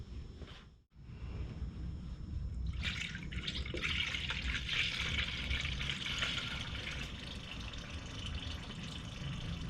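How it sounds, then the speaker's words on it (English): Coolant pours into a Honda radiator while air hisses and gurgles out of the bleeder, a steady watery rush with dripping that starts after a brief pause and continues close by. "Now I'm going to start adding coolant to the system, and while that's happening you can actually listen to the air rush out up at the bleeder."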